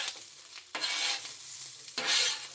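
Fried rice being stirred and scraped on a flat top grill, with repeated loud metal spatula scrapes over a continuous sizzle, close up and without talking.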